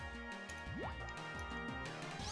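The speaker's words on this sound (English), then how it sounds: "Water gun!" Water Gun attack effect from Pokémon White 2 plays as a burst of bubbly, gurgling synthesized splashes with rising swoops and drips, busy and close over game music.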